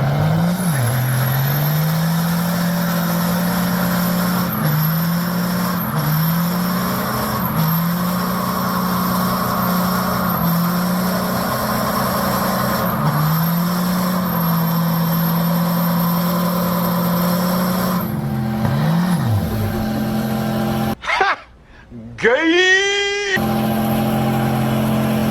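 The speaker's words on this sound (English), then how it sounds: "Check out this pathetic burnout." A Cummins diesel truck on dually snow tires attempts a feeble burnout, its engine revving up and dropping back again and again at close range, ending in a short, harsh burst of tire squeal.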